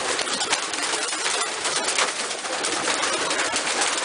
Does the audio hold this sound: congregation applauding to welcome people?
no